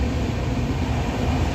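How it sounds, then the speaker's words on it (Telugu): A moving passenger train rumbles steadily from inside the carriage, a continuous loud low drone with a faint high whine, and no voices. "ట్రైన్ అయితే కదిలింది"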